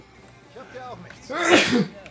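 A character sneezes in the Mafia 3 video game, one sharp, loud burst arriving after a short line of German speech and standing out clearly above it.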